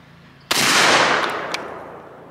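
A single loud shotgun blast from a Winchester semi-automatic shotgun rings out sharply and decays over about two seconds, with no follow-up shots in the string.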